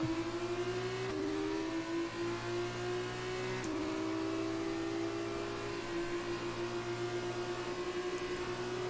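An F2 race car engine in the video game F1 2019 accelerates with a steady high whine that climbs in pitch through each gear, then drops back at each of two quick upshifts before rising again, held at a constant moderate level throughout.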